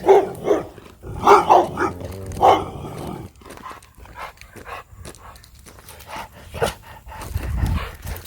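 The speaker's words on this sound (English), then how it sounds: "Uh-oh, guard dogs." Guard dogs bark in loud clustered bursts at the start, then the sound drops to scattered, quieter yips and rustling movement.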